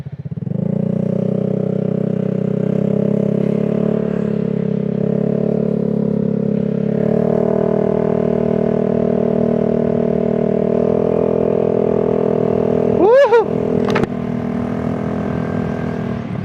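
Suzuki Burgman Street scooter fitted with an Akrapovic exhaust idling with a steady mid-pitched drone up close, then a sharp brief rev blip near the end before settling back to idle.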